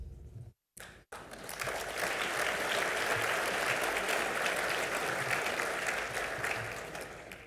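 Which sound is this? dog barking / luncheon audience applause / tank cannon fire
luncheon audience applause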